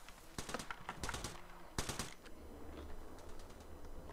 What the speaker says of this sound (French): Cible repérée, je tire.